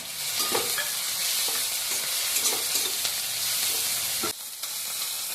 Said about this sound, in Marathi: आता टॅमॅटो घालून घ्यायचा आहे कांदा भाजलाय